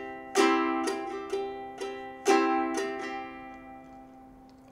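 A guitar strumming pattern with accents on beats two and four, loud strong strums alternating with softer, lighter ones in an even rhythm, ringing clearly with no talking.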